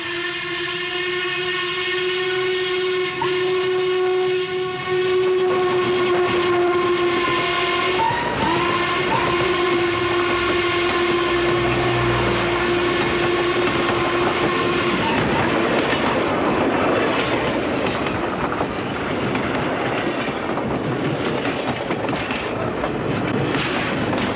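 A steam train whistle sounds in long steady blasts, then the loud chugging rumble of Norfolk & Western steam locomotive 1218 and its clattering cars rolls past close by, with black smoke.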